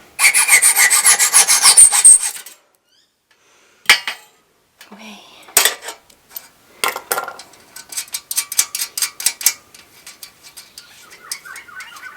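A metal bolt with its nut threaded on gets filed or cut, opening with a loud rapid rasping burst, then a pause and scattered shorter scrapes and rubbing strokes close by.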